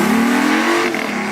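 A car engine revs steadily with a rising, droning tone and a slight dip near the end, loud and close, no voices.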